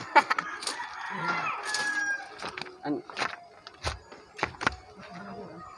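A rooster crows several times among clucking fowl, with short sharp calls and clucks scattered near and at moderate volume while people talk in the background.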